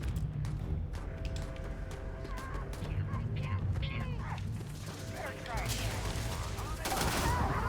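Gunfire in the Starfield game: bursts of rapid shots and clattering mechanical noise crackle through the mix, fairly quiet and set against a steady low background with some talk.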